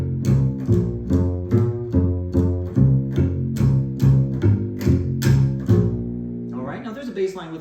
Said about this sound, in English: now there's a bass line with a little more motion